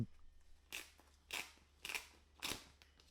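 Four crisp, crackling rustles of stiff cardboard packaging, evenly spaced and close up, with quiet pauses between them, while unboxing a Galaxy Tab S11 Ultra.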